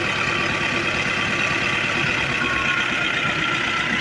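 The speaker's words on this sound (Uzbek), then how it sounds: "mana texnikamiz yurgan holati" A machine's motor runs steadily at idle, a continuous, even engine rumble with a broad hiss, close and unchanging for the whole stretch, with no talk over it.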